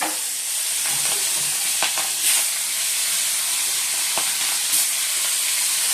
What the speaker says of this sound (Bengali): এবার মাছগুলো ছেড়ে দিচ্ছি।